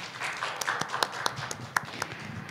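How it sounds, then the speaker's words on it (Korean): Applause from a forum audience at the close of a development-cooperation evaluation event, thin and scattered with separate claps standing out over a soft wash, moderately distant. "고생이 많으셨던 연사분들께 큰 박수 부탁드립니다."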